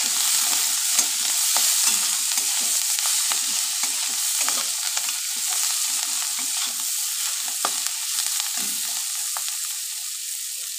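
Capsicum fried with salt and turmeric in a pan, stirred continuously with repeated scraping strokes over a constant hiss of sizzling, close and fairly loud.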